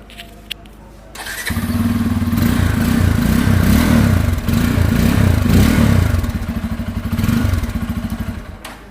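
A Bajaj Pulsar N250 motorcycle engine cranks and fires up, then idles loudly with a throaty rumble and revs a few times nearby.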